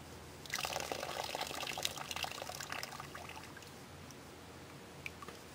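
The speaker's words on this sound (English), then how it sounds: "all I'm doing is blowing air back through the filter" Air blown back through a LifeStraw water filter, a soft hissing, bubbling spray that starts after a short pause, holds for a few seconds, then tapers to a few faint drips.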